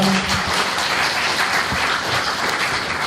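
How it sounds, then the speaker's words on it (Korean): A packed hall at a political party convention in Busan, held for party leadership candidates, claps loudly and continuously, a thick wash of applause with no break. "큰 박수 한번 쳐주시기 바랍니다."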